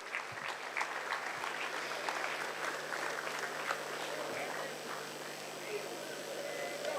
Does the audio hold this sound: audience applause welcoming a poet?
yes